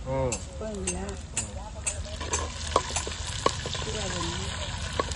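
Onions sizzle steadily in a hot pan with a few stirring clinks, while a person talks over the frying.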